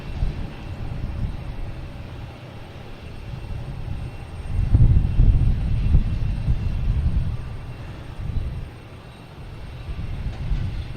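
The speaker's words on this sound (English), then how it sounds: "JetBlue coming in from Seattle" A JetBlue Airbus A321 arriving at Boston Logan from Seattle gives a low rumbling roar that swells to a peak midway, then eases off and lingers as distant engine noise.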